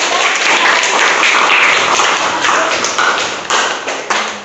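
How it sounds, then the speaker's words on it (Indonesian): Classroom applause for a student group that has just presented: loud, dense clapping from many people fills the room, steady at first and then thinning out toward the end. "Oke, tepuk tangan dulu untuk kelompok"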